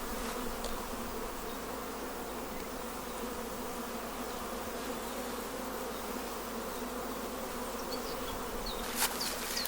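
Honeybees swarm around hives during a mountain honey harvest, making a dense, steady buzz that stays level throughout with no voices.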